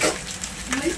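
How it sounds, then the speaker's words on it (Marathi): Small pakoras sizzling in hot oil, a continuous close crackling fry. "अशा पद्धतीने चमच्याने पण सोडू शकता किंवा हाताने छोटे छोटे असे पकोडे सोडू शकता"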